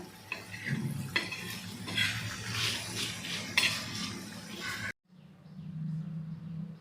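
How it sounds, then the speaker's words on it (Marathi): Prawn thecha being scraped from a pan onto a serving plate with a metal spoon, giving close clinks and scrapes of cookware and cutlery over the first five seconds, then a softer low rumble. "ठेचा आपला रेडी आहे मी तुम्हाला एका सर्विंग प्लेटमध्ये काढून दाखवते"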